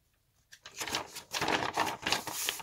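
Paper being cut by hand while preparing craft papers gives quick, rhythmic crisp snipping and rustling at close range, with no talk.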